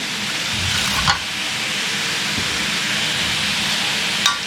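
Potatoes being stirred into a simmering mutton curry: a continuous bubbling sizzle with two sharp scraping strokes of a spoon against the pot, one early and one near the end.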